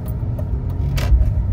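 Manual BMW E46 330ci on the road, a steady low engine and road rumble from inside the car with a brief brighter whoosh partway through.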